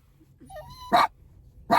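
Puppies whimper with a thin, rising whine, then give two sharp yapping barks about a second apart, close and clear with no talking.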